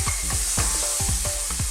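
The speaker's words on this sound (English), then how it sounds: "let's drop our onions in" Onions hit hot oil with spice powders and sizzle loudly up close, while rhythmic knocks of a utensil repeat about every quarter second.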